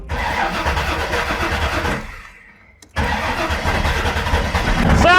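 A Chevrolet Nova's engine runs rough, cuts out into near silence, then cranks and catches with a sudden burst, settling into a loud, close, rumbling idle that swells toward the end.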